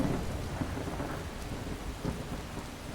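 Steady rain and rolling thunder from a thunderstorm in the Skyrim video game with the Cathedral Weathers mod, a dense continuous downpour with low rumbles swelling throughout, no voices.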